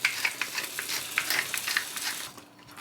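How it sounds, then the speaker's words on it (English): Tomato passata sauce sizzling and bubbling in a frying pan, a soft continuous crackle with irregular pops and spatters, close and moderately quiet with no talking. "I'll just fry that for a little bit longer"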